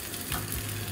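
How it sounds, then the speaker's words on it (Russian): Shawarma wrap frying in a pan, pressed down on one side, giving a steady, close sizzle that holds evenly throughout a brief moment with no talk. "Вот сейчас она с одной стороны прожарится, потом перевернем на другую."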